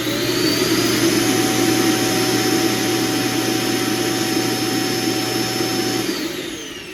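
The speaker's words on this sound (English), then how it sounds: "it's probably going to empty itself, which this thing sounds like a little jet engine when it empties" A Roomba robot vacuum dock empties itself with a loud, steady whooshing roar like a small jet engine. It holds constant for several seconds, then winds down.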